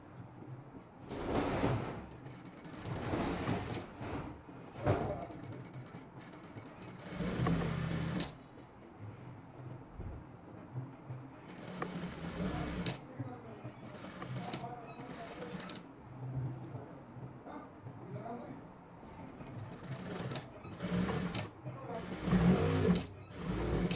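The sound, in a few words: sewing machine stitching fabric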